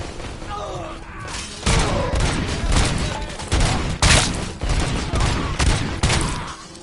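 Gunfire in the RoboCop: Rogue City video game: rapid, loud bursts of shots and impacts repeating across the whole stretch, dense and close, with a voice faintly under the din.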